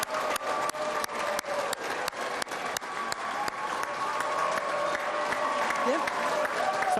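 Large, noisy crowd inside a hotel function room at an election-night event, with continuous loud chatter and bursts of applause and clapping, interrupted by sharp repeated impacts during the first few seconds.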